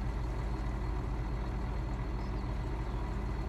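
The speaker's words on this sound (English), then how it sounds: "I'll shut it down and start it again so you guys can hear it. A lot more bassier sound. It's a big, powerful tractor." A big, powerful tractor engine idles in Farming Simulator 19, a deep, bassy, steady rumble that holds evenly throughout with no speech over it.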